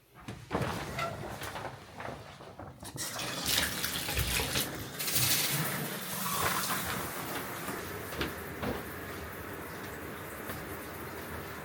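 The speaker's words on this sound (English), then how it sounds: "let's hop in the shower" Shower water runs steadily in a home bathroom, a dense continuous spray with brief knocks and shifts as someone moves under it, fairly close and without talk.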